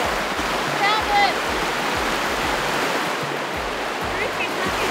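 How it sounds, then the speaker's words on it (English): A waterfall and stream near Teahupo'o, Tahiti, rush steadily and loudly, a continuous close wash of flowing water with no pauses. "We found a waterfall."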